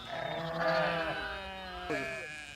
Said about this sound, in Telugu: నెట్టు చుట్టూ మొత్తం గొర్రెలు అయితే వచ్చేసినాయి